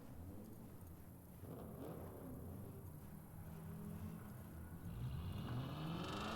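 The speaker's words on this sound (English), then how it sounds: "You can hear the engines revving." Car engines in the video game Cyberpunk 2077 rumble and rev steadily in the background, building to a higher whine near the end, with no talking.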